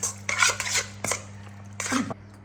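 A spoon clatters and scrapes around a bowl as chicken marinade with sesame oil is mixed, three close, bright bursts of utensil-on-dish noise over a low steady hum.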